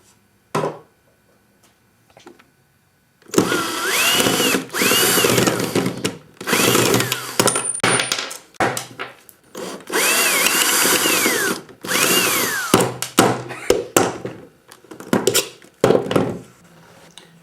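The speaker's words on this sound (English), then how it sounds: "they can be removed with the cordless drill" A cordless drill whirs in several bursts of rising and falling pitch, close by, removing small screws from a computer hard drive case, separated by clicks and clunks of handling.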